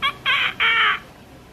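A chicken clucks close by, giving three short, strained calls in quick succession with a brief pause between them.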